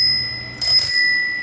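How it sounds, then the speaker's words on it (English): A small kids' bicycle bell, zip-tied onto a bike, gives one bright, loud ring close by that fades slowly. "little kids bell that I've zip tied on for when I'm out doing social rides"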